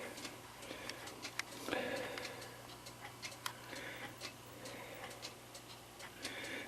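A Linden mantle clock with a Hermle 1051-020 triple chime movement ticks quietly and steadily, each tick-tock crisp and close, with no other sound.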